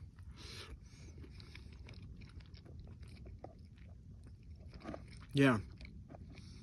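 Soft chewing and biting of a camp-cooked meal outdoors in the Arizona desert, close and quiet, with a brief spoken word partway through.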